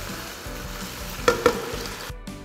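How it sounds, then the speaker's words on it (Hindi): Chicken strips sizzling in butter in a pan, a steady close frying hiss with a couple of brief utensil knocks near the end. "चिकन को बटर के साथ इतना कुक करेंगे कि इसका कलर ट्रांसलूसेंट हो जाए।"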